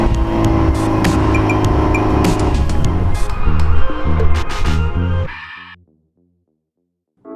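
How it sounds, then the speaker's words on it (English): A Mazda MX5 Miata with an aftermarket exhaust of unknown brand runs loud and close, a raspy, fruity engine note that rises and surges for about five seconds before cutting off, followed by near silence and a faint clunk at the end. "The exhaust was put on this car before I bought it."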